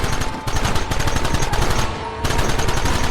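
Dense, continuous gunfire crackles through a Red Dead Redemption shootout, rapid overlapping shots from several guns with a brief lull near the two-second mark before the volley resumes loud and close.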